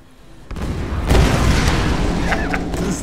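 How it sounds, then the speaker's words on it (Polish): A gunshot and a heavy boom in the Tomb Raider video game hit as one loud blast, then settle into a sustained rumble. Faint speech is mixed in. "Ten strzał był taki dziwny."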